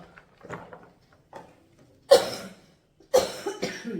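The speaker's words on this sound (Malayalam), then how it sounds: "ചുമ കുറഞ്ഞു വരുന്നുണ്ട് കേട്ടോ" Two sharp, loud coughs about a second apart, each with a short rough tail, after some quieter shuffling and faint throat sounds.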